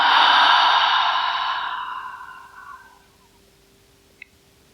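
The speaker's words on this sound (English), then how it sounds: "And exhale, relieving everything through the mouth." A long, breathy exhale through the mouth during an evening yin yoga class, loud at first and fading away over about three seconds, followed by quiet with a faint click.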